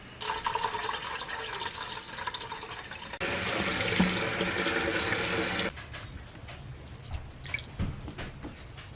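Cold tap water, chilled with a little ice, runs and splashes steadily while buttermilk is rinsed out of homemade butter made from whipping cream with a mixer. The flow swells louder midway, then settles into softer trickling and drips, with no speech.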